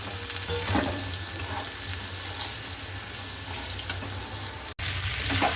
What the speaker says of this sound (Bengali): আর এদিকে আলুটা ভাজা হচ্ছে